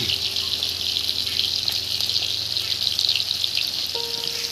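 Potatoes and eggs for a potato egg curry fry in a pan with a steady, loud sizzle and hiss that runs through the whole stretch, broken by a faint beep near the end.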